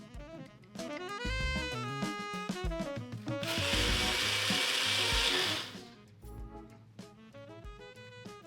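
Blender whirring as it mixes a coffee protein shake made with Javvy coffee and Premier Protein, a loud noisy burst of a few seconds in the middle, with music playing before and after.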